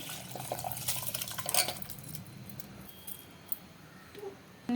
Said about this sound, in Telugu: ఇప్పుడు ఇందులోనే మనం నానబెట్టుకున్న మిల్లెట్స్ని వేసేయాలి.